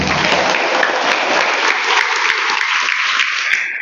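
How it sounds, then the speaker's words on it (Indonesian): Loud, continuous applause from a crowd at an Isra' Mi'raj religious gathering in a Lombok village, a thick, even roar of clapping that holds steady throughout. "Ya Allah, tepuk tangan, tepuk tangan"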